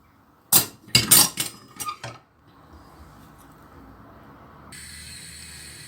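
Metal cooking pots clank and scrape together in a few loud bursts as food is transferred between them, followed by quieter handling and a faint hiss.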